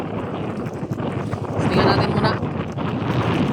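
A strong south wind buffets the microphone near a rough sea in continuous gusty rumbling, briefly heavier midway, while someone speaks over it.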